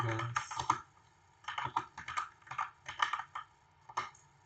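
Keystrokes on a computer keyboard as a folder name is entered while setting up a KiCad PCB project, coming in quick close bursts of clicks separated by short pauses.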